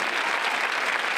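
A crowd at a street protest in Linares, Spain claps steadily in dense, even applause, loud and continuous throughout.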